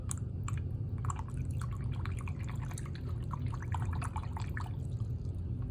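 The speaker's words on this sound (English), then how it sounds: "So I'm gonna wet my brush." A dry paintbrush is dipped and worked in water to loosen it, giving soft drips and small liquid splashes over a steady low background hum, close and fairly quiet throughout.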